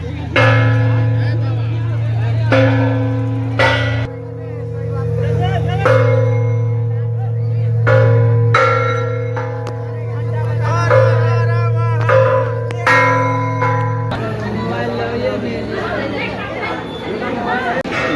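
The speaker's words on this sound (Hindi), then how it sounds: "ये जो घंटा कुछ लोग बजा रहे हैं, कहा जाता है कि ये अर्ध धातु का बना हुआ घंटा है" A large alloy-metal bell at a crowded Kali temple in Rajnagar is struck again and again. Its loud, ringing tones overlap and sustain over steady crowd chatter.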